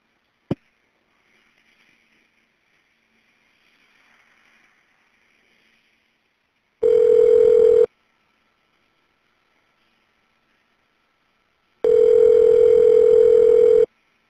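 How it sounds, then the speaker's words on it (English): A prison phone line connects a call. A sharp click comes first, then faint noise, then two loud, steady tones about a second long, several seconds apart. No one speaks. "The number is now being dialed."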